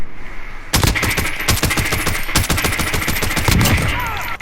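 Rapid automatic gunfire in a Call of Duty match, dense bursts of shots firing close and loud almost nonstop, with brief pauses between volleys and no talking.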